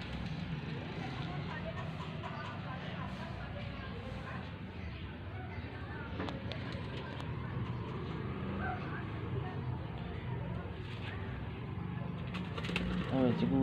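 Pigeons released for flying training in Faisalabad coo and call faintly over steady outdoor background noise, with soft voices talking in the distance.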